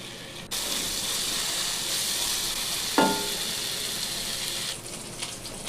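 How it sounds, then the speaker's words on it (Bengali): Spice masala with tomato paste and water cooks down in a pan for lauki kofta, a continuous loud sizzling hiss with one sharp clink partway through before the sizzle softens near the end. "জল দিয়ে আরও কিছুক্ষণ কষিয়ে নিচ্ছি।"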